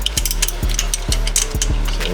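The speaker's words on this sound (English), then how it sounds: "About to get these intake bolts out of here." A ratchet works loose the intake bolts on an early Gen 1 small block Chevy 406 in a 1973 Impala, giving a steady series of close, loud ratcheting clicks in an even rhythm.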